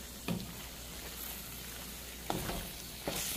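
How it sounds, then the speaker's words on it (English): Beef pieces being tossed in pepper steak sauce in a pan give a steady, close sizzle, with a few sharp clanks from the pan or utensil breaking through the frying noise. No one speaks. "Just toss that around, let every piece of beef get coated in that sauce."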